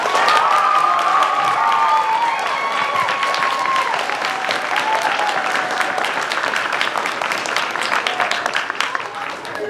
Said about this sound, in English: Let's give her one of these round of applause.